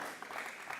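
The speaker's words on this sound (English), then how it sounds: "Let's have an applause." Brief, faint applause from a conference audience at a live marketing event in Dubai, heard as a soft, even wash of many hands clapping with no voices over it.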